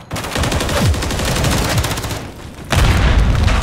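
Rapid automatic gunfire rattles loudly in a ranked Hardpoint match of a first-person shooter game on the Skidrow map, dense bursts of shots with booming hits, close and continuous.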